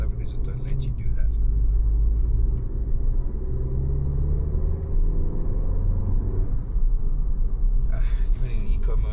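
A 2024 VW Polo GTI with a turbo engine drives over rough South African roads in eco mode, with a loud, steady low engine and road rumble heard from inside the cabin. A brief faint hiss comes near the end.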